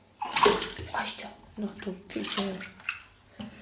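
A three-month-old baby splashes water in a bath, giving repeated wet slaps and sloshes at close range while an adult talks over them.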